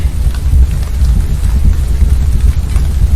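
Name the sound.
freezing rain in a flight simulator game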